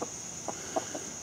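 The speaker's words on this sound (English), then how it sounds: "we started out with the chickens, and we'll end with chickens" Chickens at a flea market or yard sale stall give a few short, soft clucks spaced about a quarter second apart over a steady high background hiss.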